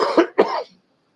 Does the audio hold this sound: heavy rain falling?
no